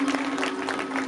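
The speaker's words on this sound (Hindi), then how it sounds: "अच्छी बात होती तो आप लोगों को ताली बजाना चाहिए भाई।" Crowd applause at a Bhagavat Katha religious gathering, continuous scattered clapping at moderate level with a steady tonal hum running underneath.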